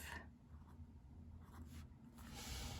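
A pen scratches across journal paper while marking out bullet points, soft and close with a few brief strokes over a faint hiss, no voices.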